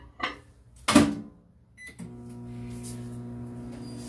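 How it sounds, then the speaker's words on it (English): Microwave oven melting a stick of butter: a couple of clicks and beeps from the door and buttons, then a steady, low electric hum that carries on to the end, close and fairly quiet. "put the other stick of butter into the microwave to melt"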